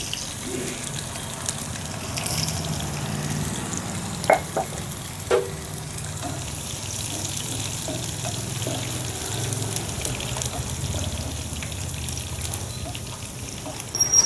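Crushed garlic cloves and cumin sizzle steadily in hot oil in a pan, with a couple of sharper crackles and pops rising over the constant frying hiss.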